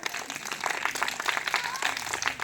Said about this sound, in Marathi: सगळ्यांनी टाळ्या वाजा जोरात जोरात जोरात जोरात